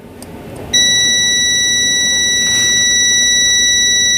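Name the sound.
multimeter buzzer mode beep testing phone coil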